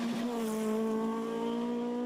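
A Ford Escort Mark II rally car at the Cork 20 Rally 2023 holds a steady, loud engine note with a strong sustained tone across the whole stretch and no voices.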